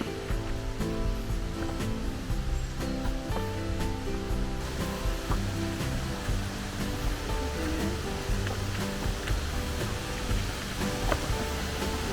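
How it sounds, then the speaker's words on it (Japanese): A waterfall on a walking trail beside a hot spring resort at the foot of the Zao mountains in Miyagi, Japan, roars with a steady, dense rush of water, heard under steady background music. "おー、すごい滝。"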